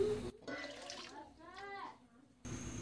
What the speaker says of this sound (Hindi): 1 लीटर के करीब पानी डालेंगे।